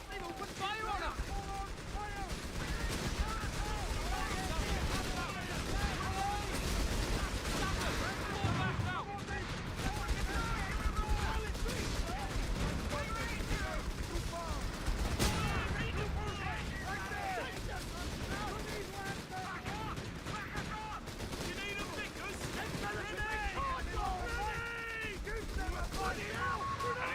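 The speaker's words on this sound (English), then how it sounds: "They've opened fire on us!" Dense, continuous gunfire and artillery from battlefield combat in the Company of Heroes 3 strategy game, with loud bursts and rattling volleys layered throughout and voices calling out over the din.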